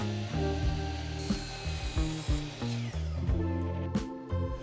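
Wood is cut for a DIY TV frame with a power saw or tool that whines in sustained passes, broken by short clicks and brief stops, close and fairly quiet.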